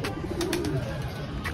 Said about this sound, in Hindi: मोर है, कबूतर है, सफ़ेद कबूतर,